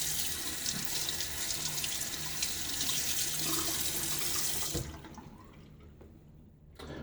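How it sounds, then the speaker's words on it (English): Tap water runs steadily into a sink while the threads of a shaving soap container are rinsed, then the flow stops abruptly, leaving quiet drips and faint handling sounds. "Rinsed out the threads here."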